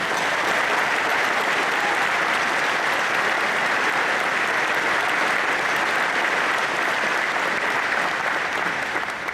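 Sustained, dense applause from a large audience at the 2022 Case Western Reserve University commencement ceremony, a steady roar of many hands clapping continuously and loudly.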